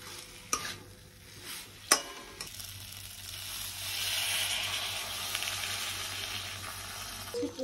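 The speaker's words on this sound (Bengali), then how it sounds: "মশলাটা কষার পর আলুটা দিয়ে দেওয়ার পর" Potatoes added to sautéed spices sizzling and frying in a pan, a steady soft hiss with a few sharp clinks of a stirring utensil against the pan.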